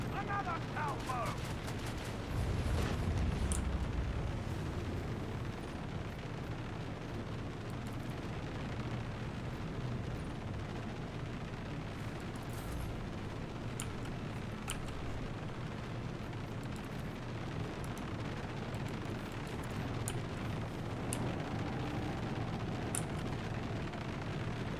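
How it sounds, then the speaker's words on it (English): Torpedo salvos erupt as rumbling explosions in the space combat of the video game Rogue Trader, a dense, continuous roar of booming blasts and gunfire-like crackle throughout. "Torpedoes! Another salvo!"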